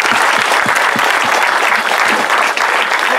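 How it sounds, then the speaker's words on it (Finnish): A crowd at an outdoor event in Heinola breaks into loud, dense applause, a steady wash of many hands clapping close by that holds for the whole stretch. "Hei, aplodit vielä näille legendoille."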